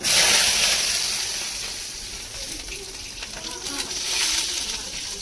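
Hot oil spattering and sizzling in a pan while frying for egg masala, a loud continuous crackling hiss that fades slightly midway and rises again, close by.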